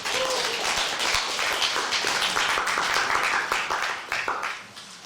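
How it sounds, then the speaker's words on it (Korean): An audience at a Korean-language speech contest for foreign workers claps in welcome, a dense, sustained burst of applause that tapers off toward the end. "여러분 큰 박수로 환영해 주시기 바라겠습니다."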